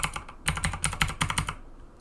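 Computer keyboard typing up close, a quick burst of about a dozen crisp key clicks in a fast, slightly uneven rhythm, then stopping, with no voice over it.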